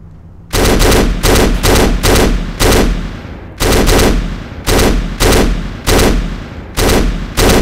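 Loud, close automatic gunfire from a shooter game set in the Nazran Foundry mission: repeated sustained bursts roughly half a second each, separated by brief gaps, with no talking.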